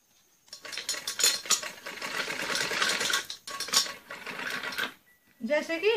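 A sewing machine stitches a trouser zip seam in bursts of rapid close clattering, pausing briefly between runs, with a short spoken voice near the end.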